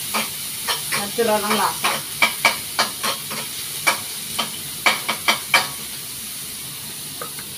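Onions sizzle and hiss in a hot pan while being stir-fried for pancit bato, a Bicol noodle dish, with repeated sharp scraping strokes of the spatula cutting through the steady frying; a brief voice speaks partway through.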